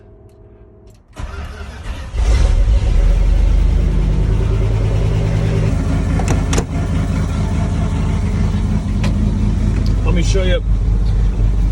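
An old Dodge 4x4 pickup truck cranks briefly and fires up, then settles into a loud, steady high idle close by, with someone speaking briefly over the engine.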